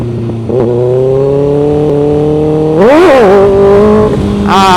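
A motorcycle engine close by holds a steady drone, then surges in a sharp rev as the clutch is released to lift the front wheel, and climbs again near the end.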